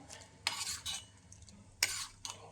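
Unni madhuram with coconut milk, jaggery, ghee, banana and cardamom simmering in a pan, stirred with a spoon in a few brief scraping strokes that clink against the metal, close and fairly quiet.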